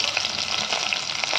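Chopped onion fries in hot oil with tempering spices, giving a steady close sizzle with soft stirring, and no voices.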